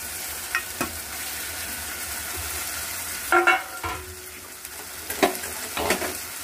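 Boiled potato stirred into a sizzling, fried-down spice mixture in a pan while cooking potol dorma. Steady frying hiss runs underneath, with intermittent scraping and clattering of a spatula against the pan.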